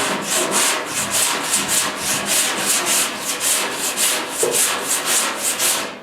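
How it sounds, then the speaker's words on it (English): Sandpaper of 80 grit rubs body filler on the driver's door of a 1972 Ford 4x4 truck, a steady, close, rhythmic scratching with regular back-and-forth strokes and no talk. "I'm just going to hit it with some 80 grit"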